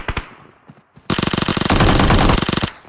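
Rapid automatic gunfire from a battle royale shooter crackles in a dense, loud burst of evenly spaced shots after a few scattered single reports and a brief pause, close and dominant with no talk over it.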